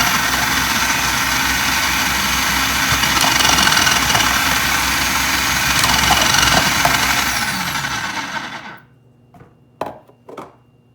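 A Black and Decker food processor slicing vegetables runs with a loud, steady motor whir for about eight seconds, then shuts off, leaving a couple of faint clunks.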